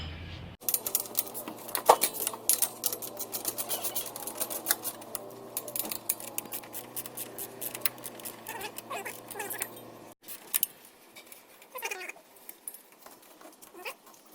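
A ratchet turns loosened wheel bolts on a Toyota 86 during a brake and wheel stud upgrade. It makes quick, light, close clicking in steady bursts, pauses briefly, then resumes with sparser clicks.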